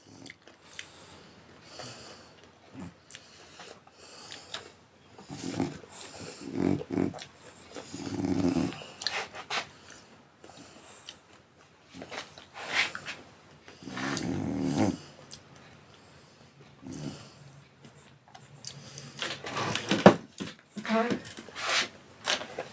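A French bulldog sleeping close to the microphone makes repeated snoring snorts and snuffles in irregular bursts. Quieter breathing comes between them and a person talks softly in places.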